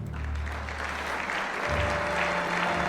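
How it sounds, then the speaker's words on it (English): Audience applause from a crowd inside a horror video game set in England, a steady dense clapping that holds for about three seconds without pause. "A round of applause, please."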